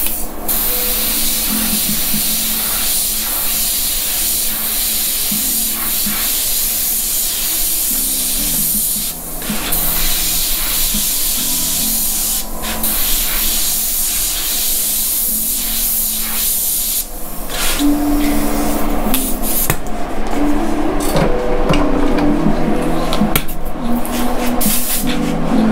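An airbrush sprays paint onto a hat in graffiti style, giving a loud, continuous airy hiss close to the mic. The hiss grows slightly stronger and rougher toward the end, with no speech.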